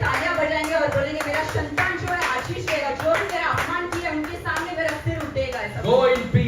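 A church congregation in Dombivli claps hands together in a loud, rhythmic beat during a worship service, with voices and calls mixed in over the repeated claps.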